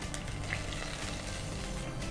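Mustard seeds spluttering in hot oil while tempering a Kannada-style majjige huli made with colocasia stems, a steady dense crackle and sizzle heard close up without any speech.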